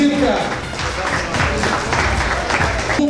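An audience applauds a third-place team at a city 'What? Where? When?' quiz awards ceremony in Mikhailovka, with dense, steady clapping filling the room for a few seconds.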